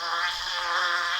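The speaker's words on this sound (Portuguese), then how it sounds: "Abelha. Muito bem, uma abelha." A bee buzzes in a steady, continuous drone, fairly close and even in loudness throughout, with no voices.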